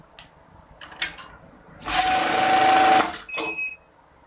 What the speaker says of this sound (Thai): ให้เรานำธนบัตรที่เตรียมไว้ใส่ลงไปนับครับ